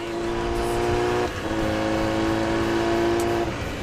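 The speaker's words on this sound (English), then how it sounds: "Accelerating on an on-ramp on a super sports bike." A super sports motorcycle accelerates hard up a highway on-ramp, its loud, steady, high-revving engine whine filling the scene, briefly dipping at a gear change before pulling on strongly.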